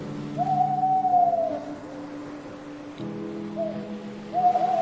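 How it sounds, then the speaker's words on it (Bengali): An owl hoots as a sound effect in a Bengali sci-fi audio story set aboard a ship at sea: two clear, drawn-out hoots with a brief third call, over a low steady drone. "একটা পেঁচা"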